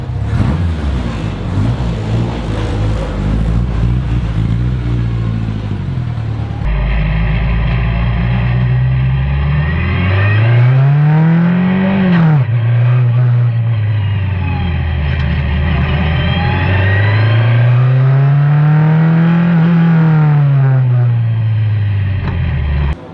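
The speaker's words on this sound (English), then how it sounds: "Bruce took the car out to give it a blast up the road" A Tiga SC81 S2000 race car accelerates up a road, its loud engine rising in pitch through repeated revving runs and gear changes, close and alone without talk.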